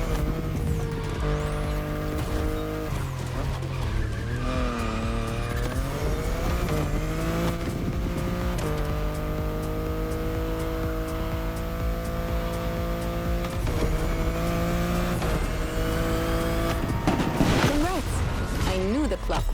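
Racing car engine in The Crew Motorfest video game, revving and shifting through gears with rising and falling whines, tire squeals and a loud, continuous roar lasting throughout.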